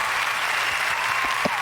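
Applause sound effect on a radio show: a short burst of crowd clapping with a few brief vocal sounds mixed in.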